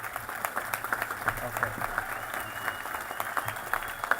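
An audience at a Welcome Home Vietnam Veterans Day ceremony gives a warm round of applause, steady moderate clapping from a crowd with scattered louder claps, heard at some distance and mixed with a murmur of voices.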